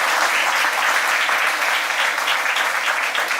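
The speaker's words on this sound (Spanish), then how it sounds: "Quiere dar palmas al Señor." A church congregation clapping in praise during a sermon, loud, dense and continuous applause filling the space without a break.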